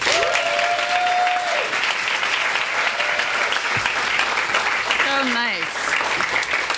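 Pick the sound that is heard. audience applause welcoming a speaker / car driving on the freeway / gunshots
audience applause welcoming a speaker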